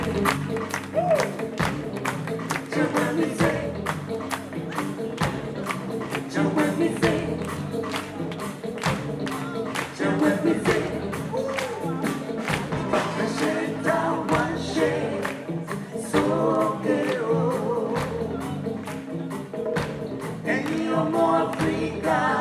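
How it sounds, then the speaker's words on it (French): Loud, dense applause from a theatre audience, sustained throughout with steady clapping and crowd noise that rises and falls slightly but never stops. "merci de l'applaudir très fort"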